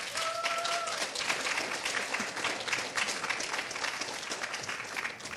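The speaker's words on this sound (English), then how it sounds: "Please, round of applause for George Shinhoster." A crowd applauds a civil rights activist and leader being welcomed to speak: dense, steady clapping fills the room throughout, with a brief sung or called note near the start.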